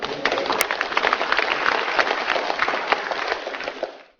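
A room of party legislators at a caucus meeting applauds to approve a bill, a dense crackling burst of many hands clapping steadily before trailing off abruptly at the end.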